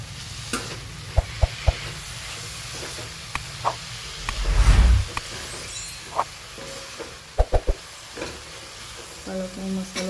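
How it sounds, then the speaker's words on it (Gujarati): Spinach added to masala sizzles in a pan while being stirred, with a steady close hiss, scattered clinks and scrapes of the spoon, and a brief louder rush of sizzle as the leaves go in. "હવે આપણે એમાં પાલક એડ કરી દઈએ."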